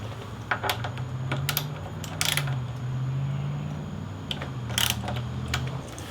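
A 12 mm socket wrench loosens the front brake caliper bolts on a Yamaha FZ-09/MT-09 motorcycle, giving scattered sharp ratcheting clicks over a steady low mechanical hum.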